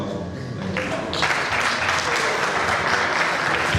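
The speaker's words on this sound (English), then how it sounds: "A round of applause for Mr. Chairman" Crowd applause for the chairman after a pledge toward PH equipment at a 30th anniversary reunion of the Auchi Polytechnic AMCOS class of 93, a steady wash that swells louder after a second and carries on with no break.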